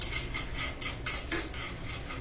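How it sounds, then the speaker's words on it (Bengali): Whole cumin seeds fry in a pan while two sticks stir them, giving soft repeated scraping and clinking strokes in a quiet, close rhythm with faint sizzle underneath. "এই যে জিরা ভাজতেছি"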